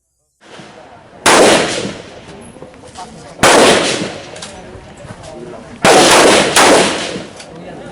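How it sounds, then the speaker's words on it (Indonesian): Gunshots at an outdoor shooting practice with long and short firearms, three loud, close single blasts spaced a couple of seconds apart, each followed by a ringing decay. "diberikan kesempatan untuk latihan menembak baik menggunakan laras panjang maupun pendek"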